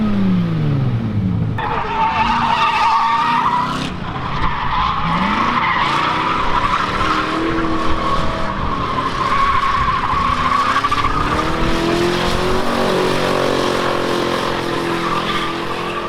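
A drift car sliding around a property, tires squealing in long wavering howls over a loud engine that rises and falls, the skid sustained throughout and close by, with no talking.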